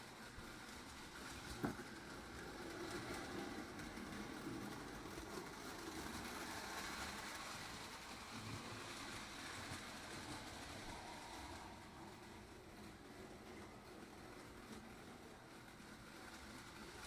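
A Lionel 254 prewar toy train engine, powered from its transformer, runs continuously on the track with a steady low rumble and whirring hum, after one brief sharp click near the start.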